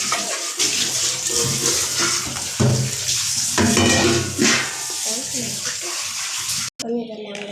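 Carrots and beetroot are washed together in water, with steady splashing and sloshing, occasional clunks against a vessel, and brief pauses, close and fairly loud throughout.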